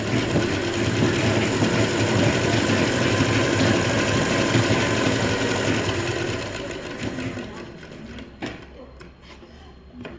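A sewing machine stitches a plain blouse with a rapid, steady whirring rattle that runs for roughly seven seconds, then tapers off into a few scattered clicks and handling sounds.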